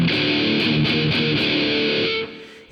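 A distorted electric guitar plays a chugging riff through a pedal board with a distortion pedal, loud and sustained, then stopping abruptly near the end.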